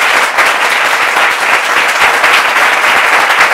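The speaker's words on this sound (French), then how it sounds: "on peut l'applaudir très fort" Loud, dense studio audience applause for a guest on a French talk show, continuous many-handed clapping throughout with no talking.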